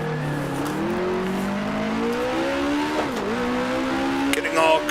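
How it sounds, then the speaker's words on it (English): A Formula One car in Grand Prix Legends, a 1966 Tasman Series racing game, whines loudly through its engine. The pitch drops in a series of steps as it downshifts to first gear, ending with a brief squeal of tyres. "To the end of the straight, then all the way down to 1st gear."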